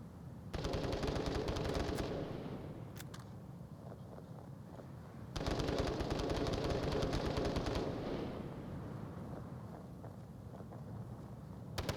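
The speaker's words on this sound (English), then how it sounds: "Shots coming up over the top." Gunfire in the VR shooter Onward during a competitive match, with two sustained bursts of loud, rapid automatic fire and a trailing echo between them.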